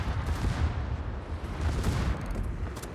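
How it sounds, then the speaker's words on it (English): Warship main guns firing a broadside in a naval battle game: a dense rumbling roar of overlapping heavy blasts, loud and continuous for the whole stretch with no clear pauses. "Even though those were practically perfect broadsides"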